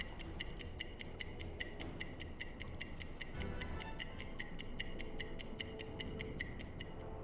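A stopwatch in the submarine game UBOAT ticks in a steady, even rhythm, crisp and clearly audible over a low background rumble.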